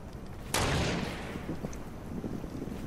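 A single loud, sharp video game gunshot cracks out close by, then trails off in a long fading rumble over a low background.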